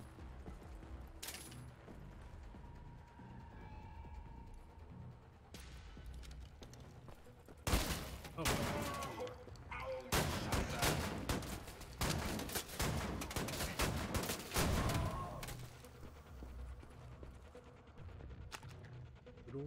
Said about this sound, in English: good old shotgun.